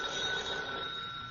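A telephone bell rings steadily on a 1940s radio comedy broadcast, a bright, buzzing ring filling the whole short moment with no voices over it.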